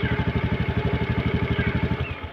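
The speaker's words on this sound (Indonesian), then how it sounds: "Nah, ini idling stopnya kan aktif nih. Kita tunggu dulu sampai dia mati." Motorcycle engine idling with the idling stop feature active, a close, steady rhythmic putter that falters and cuts out at the end.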